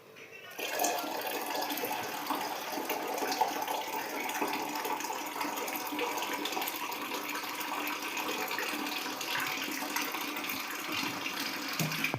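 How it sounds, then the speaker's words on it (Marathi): Steady rush of running water pouring into a metal pot, continuous and fairly close, with no pauses throughout. "कळशीमध्ये पाणी भरले"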